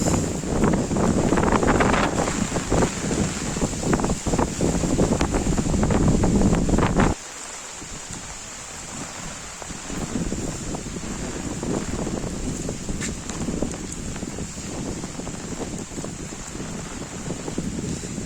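Strong wind and heavy rain from Cyclone Dana batter the outdoors in a rural area, a loud, continuous rushing roar with gusting buffets on the microphone, abruptly easing to a lower, steadier downpour hiss about halfway through.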